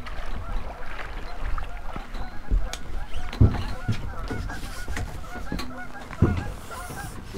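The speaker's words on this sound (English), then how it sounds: "The geese approve." Geese honk along a backwater creek in spring, a scattered run of calls mixed with rustling and water or boat noise nearby, some honks louder and closer than others.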